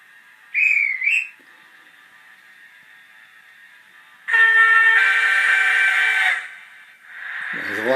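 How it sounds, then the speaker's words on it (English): A model train's high, shrill guard's whistle blows twice briefly, then a longer whistle sounds over a steady electronic hum, followed by another rising tone. "There it is, the guard's whistle."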